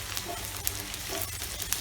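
Ingredients sizzle steadily in mustard oil in a kadai over a high flame, a close, continuous crackling hiss with small pops and brief stirring scrapes, and no voices.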